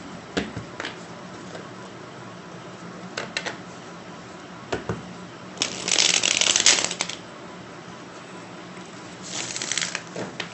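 Tarot cards being shuffled by hand in two bursts of riffling, with a few light taps and card handling clicks in between, close and fairly quiet with no talking.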